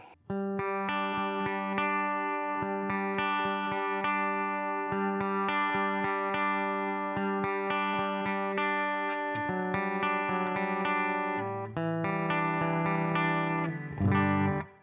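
Distorted electric guitar played through a Mooer GE200 Plus multi-effects unit set to a preset tone, with steady strummed chords ringing loudly for about fifteen seconds, punctuated by chord changes and no talking.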